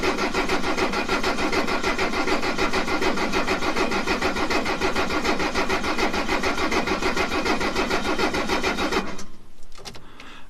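An old Mercedes diesel, left sitting for 20 years, cranks in a steady loud rhythmic churn close by for about nine seconds before the cranking abruptly cuts off, leaving a quieter rumble.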